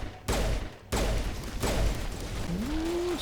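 Rapid bursts of gunfire from the Mass Effect Legendary Edition video game, played on Insanity difficulty: several sharp, loud shots separated by short gaps, followed by a rising electronic whine near the end.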